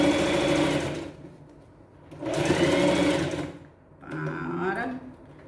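A sewing machine stitches a pet backpack in three close, loud bursts of motor hum separated by short pauses, with someone speaking between and over the runs.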